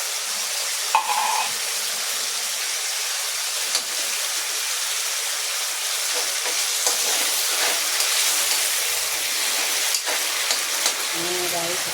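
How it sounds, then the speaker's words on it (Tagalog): Sardines sauté with pechay in a pan, a steady loud sizzle and frying hiss running throughout with brief stirring scrapes and a voice speaking now and then. "At isunod natin ang sardinas."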